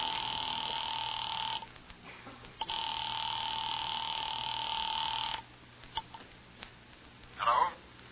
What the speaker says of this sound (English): had just dialed the telephone number